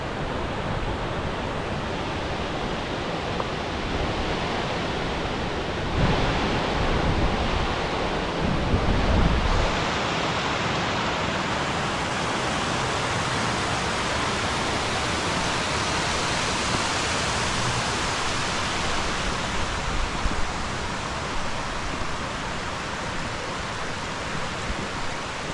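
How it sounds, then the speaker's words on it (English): Ithaca Falls, a large waterfall, roars in a dense, continuous rush of falling water that stays loud and steady throughout, with no voices over it. "So I got to Ithaca Falls, and I didn't quite realize how big this waterfall was."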